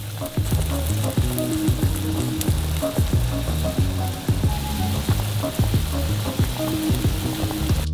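Vegan sausages cooking in boiling water: a dense, continuous bubbling hiss with rapid popping, steady and close, over a faint tonal background.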